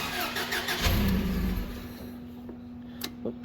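A forklift engine cranks and catches near the mic, a brief starter burst settling into a steady mid-pitched idle, with a few light clicks afterward.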